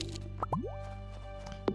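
Water plops at a sparkly fishing spot in a farming video game: a couple of quick, bright plip sounds close together and one more a second later, soft over a steady hum of background music.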